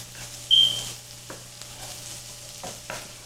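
Shrimp cooks in a skillet with a quiet, steady sizzle, marked by a few soft stirring scrapes and taps and one brief sharp clink near the start, close by and without speech.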